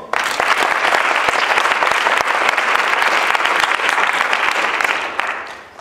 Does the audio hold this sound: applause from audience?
yes